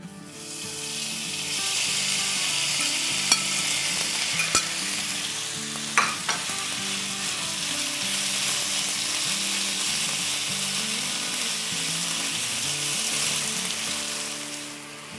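Beef pieces frying over high flame in a very hot oiled skillet for a Mongolian stir fry, with a loud, continuous sizzle and a few sharp utensil clicks early on.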